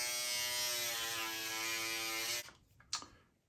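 A Remington electric foil shaver buzzes steadily at close range for over two seconds while trimming a beard, then switches off, followed by a couple of faint clicks and handling noises.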